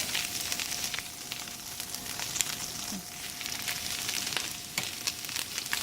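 Onions frying in a pan alongside pulled pork, with steady close sizzling and crackling throughout and a few faint clinks, no talk.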